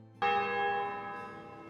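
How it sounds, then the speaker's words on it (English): A church bell at St. Peter's Basilica strikes once and rings on, its rich, sustained tone slowly fading with overlapping harmonics. "The bells tolled."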